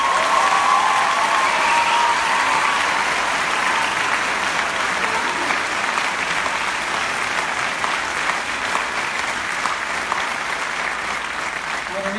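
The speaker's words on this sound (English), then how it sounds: "round of applause" Steady applause from an audience at an awards ceremony, sustained clapping throughout without pause.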